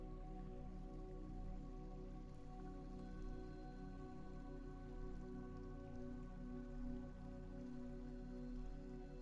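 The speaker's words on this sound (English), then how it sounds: "The lake remains open beneath the rain." Steady rain falls on an open lake, a soft, even patter with scattered drips, faint and unbroken throughout with no voices.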